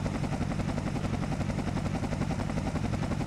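Helicopter in a video game, a steady whirring rotor drone holding at an even level throughout with a faint pulsing chop, no voices over it.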